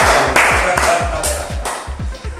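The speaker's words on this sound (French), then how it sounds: "Applaudissez pour lui." An audience claps steadily in a French-speaking motivational talk, the applause loud and continuous over a regular thumping bass beat, with voices mixed in.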